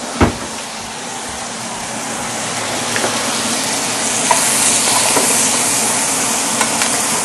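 Sweet potato noodles and Italian sausage frying fast in a hot pan, a steady loud sizzle running without a break, with a few soft clicks of stirring and no talk.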